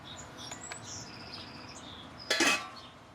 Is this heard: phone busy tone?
no